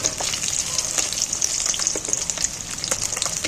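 Fish pieces fry in hot oil with a steady, bright sizzle and frequent crackling pops, close and loud, with occasional stirring and no voices.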